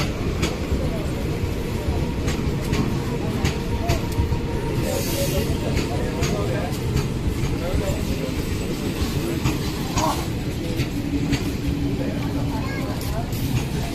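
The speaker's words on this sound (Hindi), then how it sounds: "लोकल आवी गई है। लोकल आवे छे।" A local train pulls in along the railway tracks at a level crossing, a steady rumbling roar with scattered clanks and rattles throughout, mixed with background voices.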